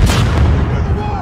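An air strike in Call of Duty Modern Warfare (2019) slamming into a marked target on a highway, a heavy close explosion with deep rumbling boom and crackling debris.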